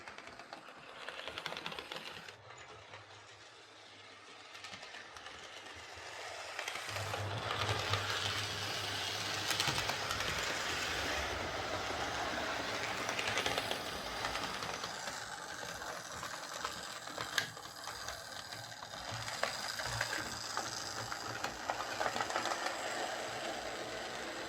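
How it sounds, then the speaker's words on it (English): An old Airfix Royal Scot model locomotive runs on a layout after repair, giving a steady mechanical whirr and rattle that starts quietly and grows louder and busier after several seconds, continuing with small clicks and no talking. "that's this old Airfix Royal Scot running again"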